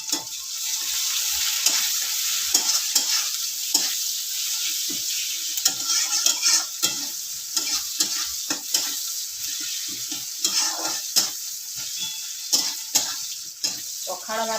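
Onion and brinjal frying in a pan for bharta, a steady bright sizzle broken by repeated clicks and scrapes of stirring, close and continuous.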